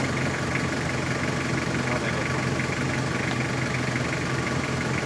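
A big American 4.7 litre V8 in a Jeep idling steadily at close range, a continuous low rumble with a mechanical hum and no changes in revs throughout.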